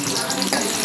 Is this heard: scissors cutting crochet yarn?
no